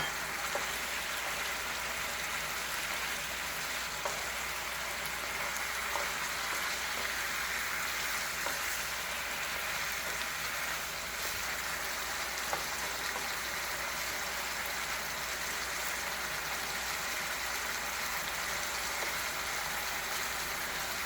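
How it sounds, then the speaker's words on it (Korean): Chicken wings simmering down in sauce in a pan, a steady soft sizzle and bubbling crackle that carries on evenly throughout, fairly quiet, with no talk. "이렇게 조금만 익을 때까지 졸여주겠습니다"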